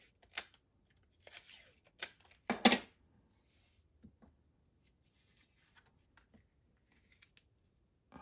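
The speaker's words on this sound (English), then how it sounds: "Then we want to wrap these behind and secure it with some Scotch tape." Scotch tape is pulled and wrapped around paper for card making, with several crisp tearing and crinkling bursts followed by faint rubbing and small taps.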